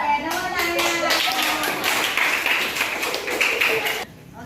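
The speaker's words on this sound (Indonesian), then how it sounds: "Oke, tepuk tangan." Students in a classroom clap together in a burst of quick, dense applause lasting about four seconds, with a voice audible near the start before the clapping stops abruptly.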